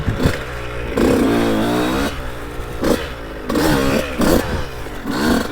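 A 2002 Honda CR125 two-stroke dirt bike rides along a trail, its engine revving up and down in loud, rasping bursts with short throttle lulls between, close and continuous throughout.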